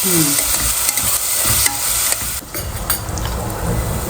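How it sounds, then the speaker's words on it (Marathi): Whole spices sautéing in hot oil in a pan while cooking masoor pulao, with a loud, continuous sizzle and the scrape of a spoon stirring. No one talks. "ते पण आपण मस्त असं परतून घेणार आहोत चांगलं परतवलं"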